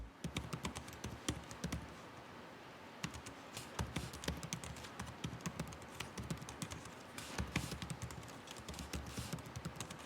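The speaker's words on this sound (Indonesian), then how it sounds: "berikut ini merupakan contoh suara dari feedback keyboard Acer Swift 3 Infinity 4" Acer Swift 3 Infinity 4 SF314-511 laptop keyboard typing heard up close, quick bursts of soft clicky keystrokes with brief pauses between runs.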